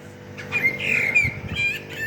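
Garden birds give harsh, piercing squawks at close range, a couple of strident calls running together and then a shorter cry, loud against a quiet background.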